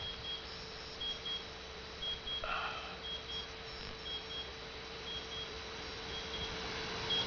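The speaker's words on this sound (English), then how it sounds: "There's my timer going off." Timer going off indoors near a radio station setup, a faint repeating electronic beep in short regular pulses over a steady hum, with a brief louder blip partway through.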